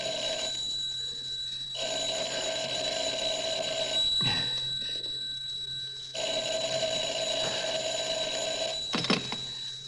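Telephone ringing in a radio drama, an electric bell sounding in two long bursts separated by a short pause, loud and close against a quiet room, with a brief knock or clatter between rings.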